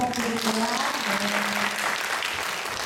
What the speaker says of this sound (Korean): 우리 엄세영 목사님께도 박수 부탁드릴게요